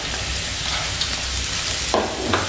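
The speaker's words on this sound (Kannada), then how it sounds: "ಚಕ್ಕೆ, ಲವಂಗ ಮತ್ತು ಸ್ವಲ್ಪ ಪೆಪ್ಪರ್ ಇಷ್ಟನ್ನು ನಾನು ಹುರ್ಕೊಳ್ತಾ ಇದ್ದೀನಿ." Cinnamon, cloves and pepper fry in hot oil along with onion, green chilli, ginger and garlic, giving a loud, steady sizzle with a couple of brief stirring scrapes and no talking.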